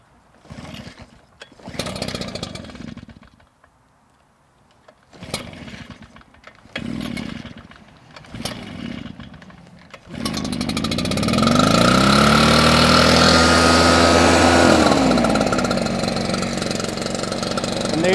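A mist blower's small two-stroke engine is pulled several times with sharp rattling cranks, then catches and runs loudly, its pitch rising and settling into a steady buzzing drone close by.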